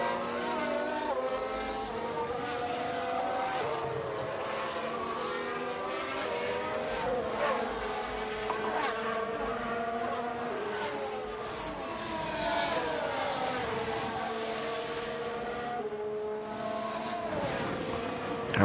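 Formula 1 cars race around the Marina Bay street circuit in the F1 Manager 22 video game, with steady overlapping high-revving engine whines rising and falling as cars pass, continuous and fairly loud with faint talk in places.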